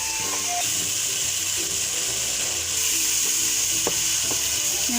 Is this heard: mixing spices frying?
yes